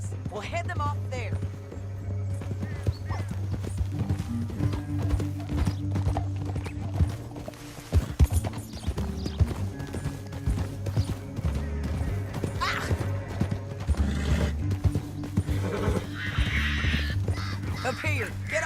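Horses in the Western video game Red Dead Redemption 2 clip-clop steadily through the whole stretch with the odd whinny, under game characters' dialogue and a low droning score.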